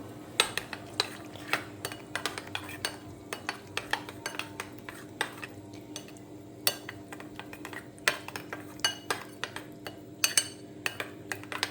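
A spoon stirs Kerala-style ginger curd (inji thairu) in a bowl, giving a steady run of quick, close metallic clinks and scrapes against the bowl's sides, with no talking.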